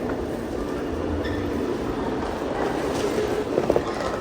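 Steady rumble of a train in Japan rolling along the tracks, with a brief metallic squeal near the end and no voices.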